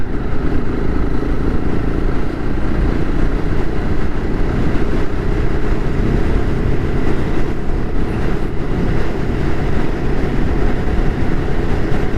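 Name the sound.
Konkan Railway train beside the coastal road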